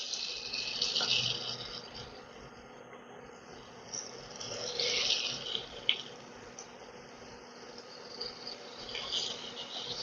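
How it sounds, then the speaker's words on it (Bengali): Puris dropped one at a time into hot oil for frying, giving a steady, fairly close sizzling hiss with light crackles throughout. "এবার একটা একটা করে পুরি আমি ছেড়ে দিচ্ছি।"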